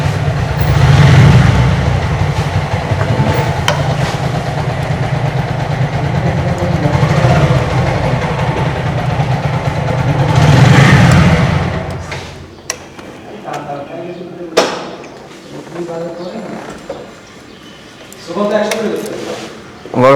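A motorbike engine idles at a biker meetup venue where iftar food is being cooked, a loud steady low rumble for about twelve seconds before it cuts out, with people talking nearby.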